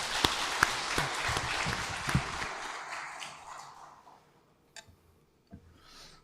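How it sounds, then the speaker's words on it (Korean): A church congregation claps together after a call to give glory to God during a Sunday morning service; the applause is dense at first, then thins out and fades to a few scattered claps. "우리 하나님께 영광의 박수를 한번 올려드리겠습니다"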